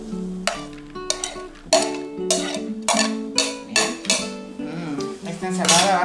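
Salad of tomato, onion, cilantro and cheese being stirred in a bowl, with a series of close clinks and scrapes of utensils against the dish in an uneven rhythm.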